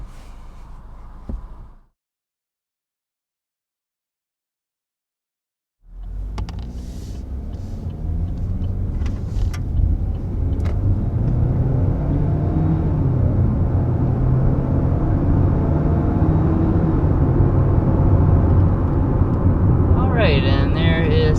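Refreshed 2022 Chevy Equinox with a 1.5 L turbo four-cylinder accelerating hard toward 60 after a brief silence, its engine and road rumble rising and holding loud, heard from inside the cabin.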